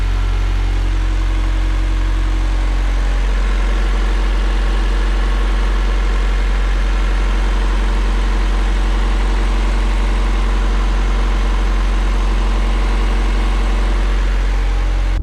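Turbocharged Honda Civic EK with a D16Y engine idling after a budget build, a steady, loud, low drone held close for the whole stretch with faint buzzing and rattling over it and no talking.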